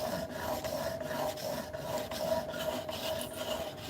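Steady back-and-forth rasping of a file cutting a bevel across the face of an old steel masonry chisel, with repeated even strokes close up and no voices.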